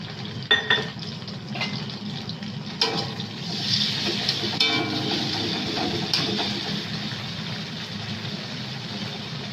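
Onions fry with ginger-garlic paste in a pan for a rohu fish and potato curry, a low sizzle under repeated scraping and clinks of a spoon stirring, with a few sharper knocks early on.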